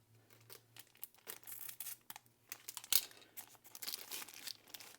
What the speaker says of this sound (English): Go ahead and cut your weather stripping out without damaging it.